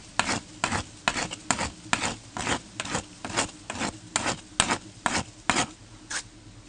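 Hand filing to bevel the end of a PVC pipe: about a dozen steady, rhythmic rasping strokes, close and fairly loud, with no talking.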